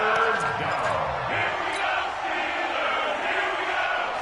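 Stadium crowd noise in a video-game American football match building ahead of a big third down, a continuous broad roar at steady level with a commentator talking over it.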